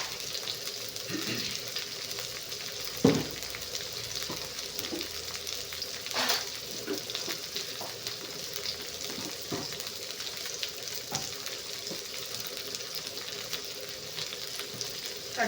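Mustard seeds tempering in hot oil in a home kitchen, a steady soft sizzle with scattered sharp pops and crackles spaced irregularly, heard fairly close with no talking.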